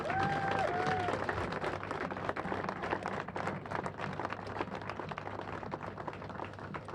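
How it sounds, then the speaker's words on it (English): A crowd at a 9/11 service project event applauds a volunteer, steady scattered clapping that persists evenly throughout, with a brief voice or tone at the very start. "So give one big round of applause for Joe."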